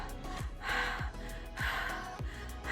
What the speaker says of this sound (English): in the background you can hear my heavy breathing just going